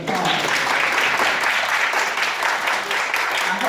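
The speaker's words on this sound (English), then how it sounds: "let's give them another round of applause" An audience claps steadily throughout a student presentation event, a dense wash of many hands at close range, fairly loud and continuous with a slight dip near the end.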